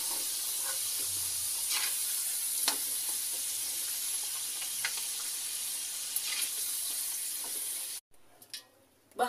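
Potatoes fry in hot oil with a steady, dense sizzle and crackle that fills the scene for about eight seconds, then drops suddenly to near quiet with a few clinks.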